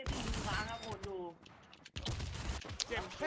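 Gunfire from players shooting each other in the survival game WarZ, sharp bursts of shots scattered across the clip, mixed with other game sounds and brief gaps.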